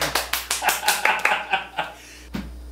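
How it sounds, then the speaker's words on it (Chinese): A small group gives quick rhythmic applause to welcome a school guest, about nine close, sharp claps that stop abruptly, followed by a single faint tap. "掌声鼓励"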